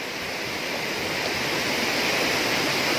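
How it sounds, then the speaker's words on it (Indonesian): A tall waterfall of about 20 meters at Curug Air Bagus near Bengkulu Utara roars as a steady, loud, dense rush of falling water, with no voices. "air terjun ini tinggi sekali"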